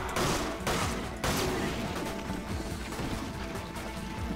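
Gunfire in the video game Resident Evil 5 Mercenaries mode: a couple of sharp, loud shots near the start, then a dense, noisy clatter of game action that continues underneath.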